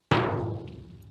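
A single struck hand drum with an adjustable skin, a sharp hit followed by a resonant, slowly decaying boom, close and alone.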